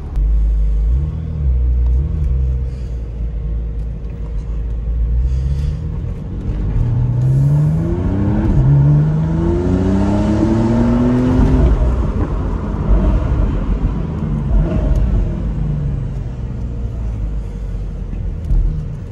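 A Porsche 911 with sport exhaust pulls into a dealership shop, its engine idling low, then revving up in a rising, throaty sweep before settling back to a rumbling idle close by.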